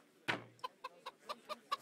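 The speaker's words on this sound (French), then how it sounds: "ils ont réveillé la poule" A hen clucks in a medieval video game: one sharp squawk, then a run of short, evenly spaced clucks, close and fairly quiet with nothing else over them.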